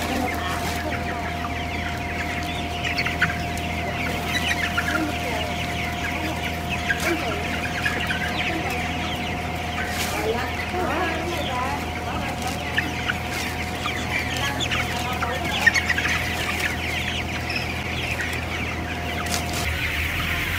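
Young chickens about a month old on a poultry farm cluck steadily in a dense, continuous chorus, with occasional louder calls over a constant background hum.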